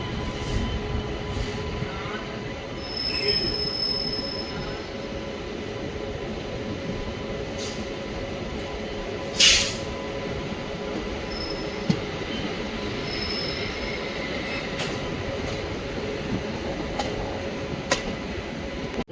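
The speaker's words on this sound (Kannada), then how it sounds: "ಎರಡು ನಿಮಿಷ ಹಾಲ್ಟ್ ಆದಮೇಲೆ ನಾವು ಡಿಪಾರ್ಟ್ ಆಗ್ತಿದ್ದೀವಿ ಯಲಹಂಕ ಜಂಕ್ಷನಿಂದ." A special passenger train pulls out of Yelahanka Junction on the SMVT Bengaluru to Bidar run, heard from on board. A steady rolling rumble carries throughout, with faint wheel squeal and a few sharp clicks and knocks, and no one talks.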